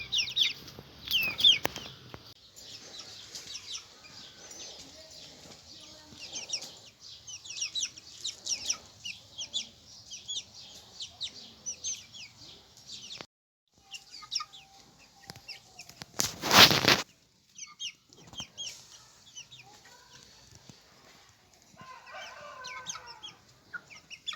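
A hen clucks softly while small Ross 308 broiler chicks cheep in high, rapid peeps throughout, with a brief sharp rustle partway through.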